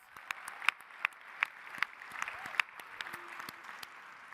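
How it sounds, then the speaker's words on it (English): Applause for the Summit Design team at a leadership summit, a fairly quiet, steady patter of clapping with a few sharper individual claps standing out over about four seconds. "you can give them a round of applause"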